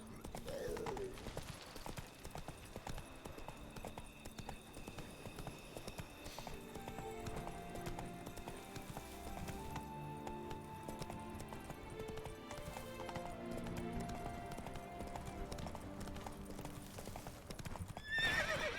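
Roach, the horse in The Witcher 3 game, gallops with a steady rapid clip-clop of hooves and an occasional whinny, set over soft game music throughout, fairly quiet overall.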